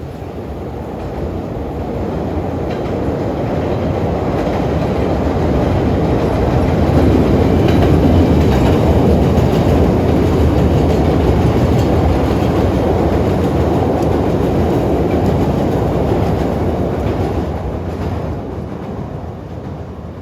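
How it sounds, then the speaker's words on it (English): A CTA Red Line train bound for the Dan Ryan branch speeds past on a rainy day, a loud, steady rush of wheels and rail noise that swells and holds for about twenty seconds before easing slightly. "Here comes a Dan Ryan bound red line train flying through here"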